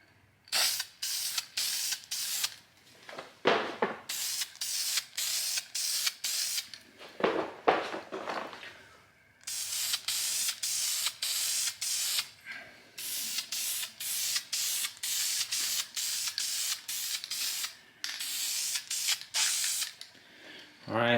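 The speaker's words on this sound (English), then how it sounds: "let's go ahead and spray paint and see what happens" Aerosol spray paint on a car wheel being refinished for curb rash: repeated short bursts of close, loud hissing spray with brief pauses between passes, then longer sustained sprays.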